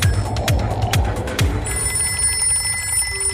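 Telephone ringing in an Animaniacs cartoon, with a run of sharp repeated rings over a low throbbing hum, followed by a sustained electronic tone; no one speaks.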